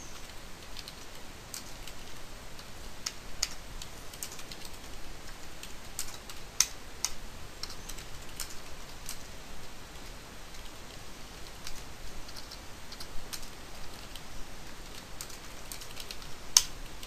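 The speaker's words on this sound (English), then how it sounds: "I'm just sort of going to type out all the code" Typing code on a computer keyboard, a steady run of quiet, close key clicks with occasional sharper taps, with no talking.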